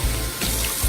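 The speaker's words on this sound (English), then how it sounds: "You're just going to get your face all nice and wet." Tap water runs at a bathroom sink while a face is splashed, giving a steady close rush with a couple of heavier low sloshing pulses.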